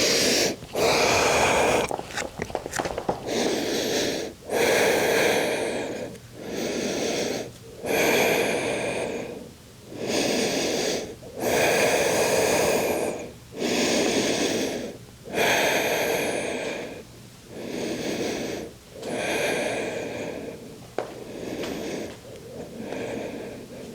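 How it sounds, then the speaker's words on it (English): Deep, slow yoga breaths repeat steadily throughout, each long inhale and exhale sounding close and loud. The breathing is breathy and slightly wheezy, with brief pauses between breaths and no talk. "Take one more inhale in. Exhale out."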